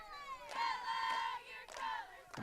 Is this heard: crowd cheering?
yes